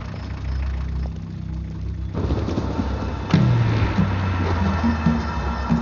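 A truck engine idles with a steady low rumble, joined partway through by louder rattling and a brief mechanical clank, close and continuous.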